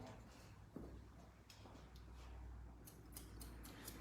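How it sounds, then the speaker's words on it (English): Blending scissors snipping through a man's short hair during a haircut, a few faint, crisp clicks and snips close by over a quiet room hum, with brief isolated cuts spread across the moment. "you'll see I will be using my blending scissors"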